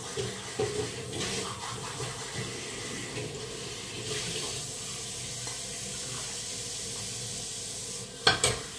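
Cold water runs steadily from a tap for several seconds, a close, even rush with a couple of sharper splashes near the end.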